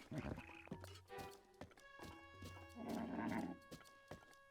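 A horse gallops in The Legend of Zelda: Breath of the Wild, with rhythmic clip-clop hoofbeats and a brief whinny over soft game music tones, fairly faint and uneven in loudness.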